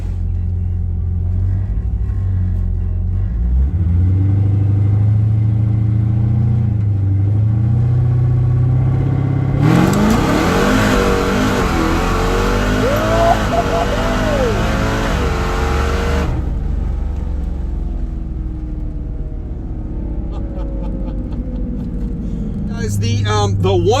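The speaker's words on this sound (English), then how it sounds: "I'm going to get a little shakedown pass here and just see how the car runs with this new tune" A tuned Dodge muscle car with a new transmission tune makes a drag strip pass, its engine rumbling loudly and close, then surging into a hard, rising wide-open roar for several seconds before easing back.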